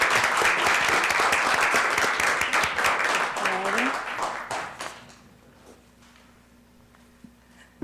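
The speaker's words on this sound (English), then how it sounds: "if we could just give them a round of applause" Audience applause at a school board meeting honoring school counselors: sustained clapping from a roomful of people for about five seconds, then fading away to quiet room tone with a few scattered claps.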